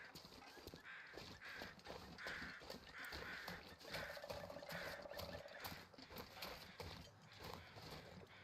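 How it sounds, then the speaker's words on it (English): Crows or ravens caw in a series of repeated calls over steady wind and ambient noise along a coastal highway in a survival video game, the calls fairly faint and distant. "there's crows over here,"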